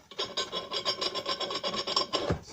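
Rasping metal-on-metal scraping as a valve removal tool is screwed into the head of a Mini R50 engine, close up, with rapid repeated turning strokes and no talk.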